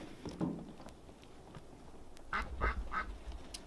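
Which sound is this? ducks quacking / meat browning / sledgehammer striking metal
ducks quacking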